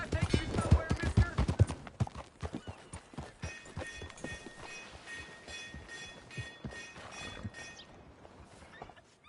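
Horse hooves clip-clop at a steady walking rhythm in Red Dead Redemption 2, loud and close at first and then settling into a softer, even patter beneath townsfolk talking and faint background hum.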